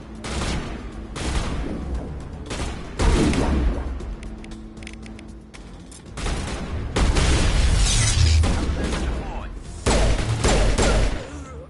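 Gunfire in Mass Effect comes in loud bursts of rapid shots and booms, with quieter gaps between volleys and a voice speaking within the exchange.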